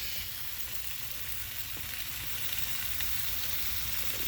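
Salmon fillets fry in a pan for teriyaki glazed salmon, giving a loud, steady, close sizzle that crackles continuously with no pauses.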